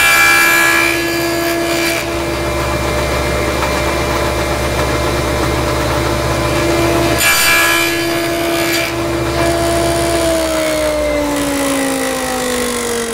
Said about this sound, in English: So let's go ahead and cut this out now.